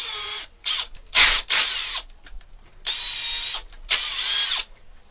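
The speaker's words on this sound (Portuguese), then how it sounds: "essa aqui vai abrir uma rosca na madeira interna" A screw driven as a tap to cut thread into wood while making a wooden hexagon telescope tube, heard as loud whirring power-driver bursts of varying length separated by brief pauses, close up.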